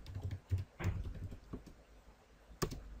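Keys tapped on a computer keyboard while entering a drafting command in CAD software: a handful of soft, close clicks in irregular bursts, then one sharper keystroke near the end, with no talking.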